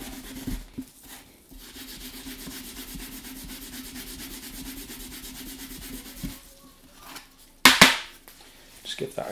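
Film being rubbed off a copper circuit board at home, a steady soft scrubbing and rasping close up, ending with a few sharp scraping bursts.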